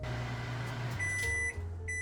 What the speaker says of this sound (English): Heat this in a microwave in 15-second intervals until the butter begins to melt.